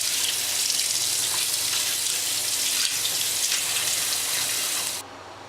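A reusable almond milk bag is hand washed under a running kitchen tap, making a steady loud splash of water that stops abruptly near the end, close by with no voices.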